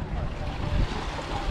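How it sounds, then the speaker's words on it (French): Waves washing into a small beach cove in Greece, a steady broadband rush mixed with wind buffeting the microphone, close and continuous over the short stretch with no voices standing out. "Bien arrivé à la plage. Une petite crique avec un petit bar restaurant."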